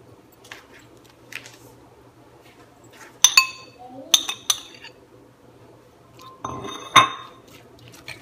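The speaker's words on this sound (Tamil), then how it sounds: "தேவையான அளவு கொஞ்சம் உப்பு கூட தயிர் நல்லா மிக்ஸ் பண்ணி" A spoon clinks and scrapes against a bowl while yogurt is mixed with salt for raita, giving scattered bright taps and a few clustered clatters over soft wet stirring and a quiet background hum.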